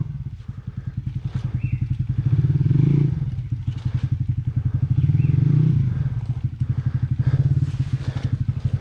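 An enduro motorcycle engine thumps in rapid pulses, rising twice as the rider throttles up on half clutch over rough, landslide-strewn ground in the Chandragiri Hills, close by with faint clatter.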